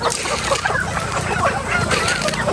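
Chickens in a farmyard feed noisily on scattered corn, a dense, continuous bustle of clucks and scratching pecks close by, with faint talk in the background.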